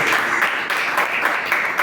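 A church congregation claps steadily in praise during a worship service, a dense, continuous wash of many hands that stays loud and close throughout.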